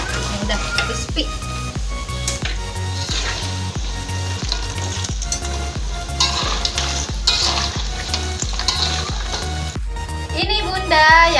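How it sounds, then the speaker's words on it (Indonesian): Chocolate spring rolls frying in hot oil in a pan, loud continuous sizzling with repeated stirring scrapes and clinks throughout. "Diaduk ya Bun sampai rata, sampai kecoklatan warnanya Bunda ya, garing ya, cakep nanti jadinya."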